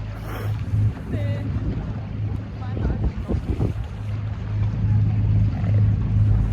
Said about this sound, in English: It's beginning to get even windier here.